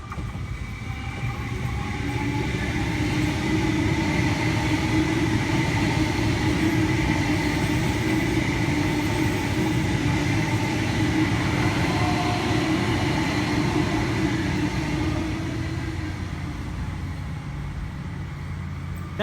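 A Sydney Trains Waratah set passing near Clarendon in a country area, a loud, steady rumble and motor whine that holds for the whole stretch with no talk over it.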